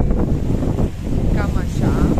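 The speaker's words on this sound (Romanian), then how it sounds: "Peripeția mare este că azi bate vântul" Strong wind buffets the microphone in loud, gusty roars at a Black Sea beach in Costinești, Romania, with a faint wash of surf and a voice speaking under the noise.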